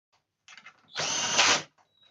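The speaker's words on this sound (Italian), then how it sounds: "possiamo fissare completamente tutte le viti, anche con l'avvitatore," A cordless screwdriver drives screws into a rear bike carrier rack, heard as a short buzz followed by a sustained, loud whir lasting about half a second with no talk.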